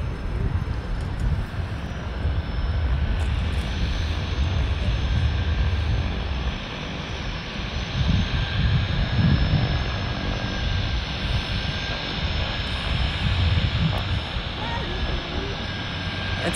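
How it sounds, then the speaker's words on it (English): A float plane engine drones steadily as the aircraft comes in to land on the water at Victoria's harbour, a sustained mid-distance rumble with wind noise and occasional voices nearby. "Float plane's coming in."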